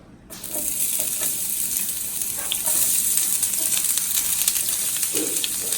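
Chopped onions hitting a frying pan of oxtails, an abrupt onset of steady, close sizzling and frying that holds for several seconds, with occasional stirring noises and no talking.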